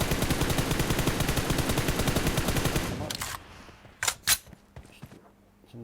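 Sustained automatic spray fire from a rifle fitted with a vertical grip in a mobile shooter game, a fast, even rattle of shots for about three seconds, then quieter scattered clicks and bursts.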